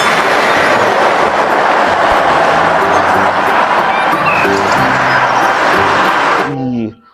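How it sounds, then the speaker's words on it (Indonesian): Toy train rolling along, a steady loud clattering rumble with rhythmic clicking that runs without a break for several seconds before cutting off abruptly near the end. "ada kereta api, teman"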